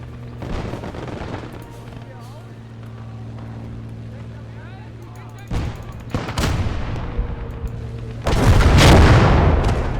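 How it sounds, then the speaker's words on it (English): Tank cannon shells firing and striking in the video game Legion of the Damned, with a few heavy booms and a loud blast near the end over a steady engine hum, with someone talking throughout. "Those shells are just bouncing off him, and we've got another tank coming up behind."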